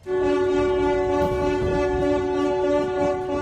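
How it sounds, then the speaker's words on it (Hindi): Tugboat horns sound in celebration after freeing a grounded ship of about 1300 feet and over 200,000 tons from the sand; one loud, steady, continuous horn blast holds for the whole stretch. "उसे खींचने वाली नावों ने हॉर्न बजाकर जश्न भी मनाया"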